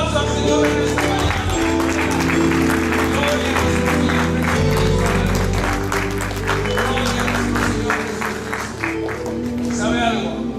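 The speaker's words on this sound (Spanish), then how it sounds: "Denle un aplauso al Señor en esta mañana." A church congregation claps during a Spanish-language service, the applause steady and fairly loud throughout, mixed with musical tones and crowd noise.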